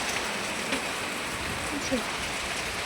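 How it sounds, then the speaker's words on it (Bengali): Steady rain hisses evenly throughout, a soft broadband wash with a few faint tonal sounds in the background. "বৃষ্টি শুরু হয়েছে"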